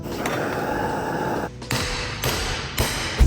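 A hammer striking a metal exhaust pipe to stretch it in a workshop: a steady metallic ringing drone broken by three sharp close blows, with a further hit at the end.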